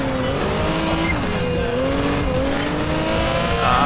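A race car in Project Gotham Racing 4 spins out, its engine whining at high, gliding pitch while tires squeal and skid continuously, loud and close for the whole stretch with no talking.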